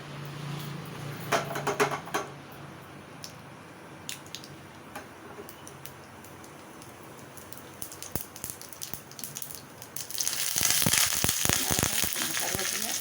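Mustard seeds, urad dal, asafoetida, chili and curry leaves crackle and sizzle in hot sesame oil, with scattered sharp pops early on and a louder, dense burst of spattering toward the end.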